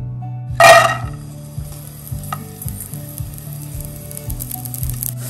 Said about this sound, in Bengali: এখানে কিছুটা ঘি দিয়ে আমরা কিশমিশ আর বাদামগুলোকে ভেজে নিব।